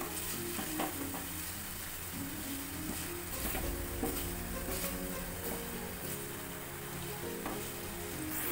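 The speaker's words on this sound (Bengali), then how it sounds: "আর একটু ফ্রাই ফ্রাই হোক" Soya chunks fry over a low flame in a pan, a steady close sizzle with occasional stirring scrapes and clicks running throughout.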